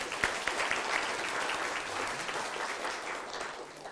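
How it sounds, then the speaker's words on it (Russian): Sustained audience applause fills a formal legal-system conference hall in Tatarstan as a Supreme Court chairman is introduced, a dense steady wash of clapping at moderate distance with no voices over it. "под ваши бурные аплодисменты"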